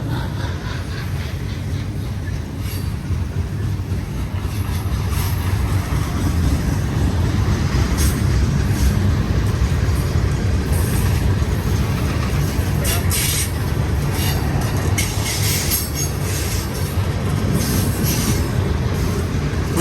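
A Union Pacific manifest freight train rolls past on the Palmdale cutoff, heading southbound: a loud, steady rumble of wheels and railcars with intermittent wheel squeal, sustained close by for the whole stretch.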